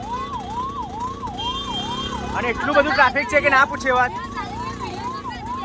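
An ambulance siren wails in a repeating, steady rise-and-fall pattern through heavy festival traffic near Minavada, with a burst of louder honking in the middle and someone talking over it.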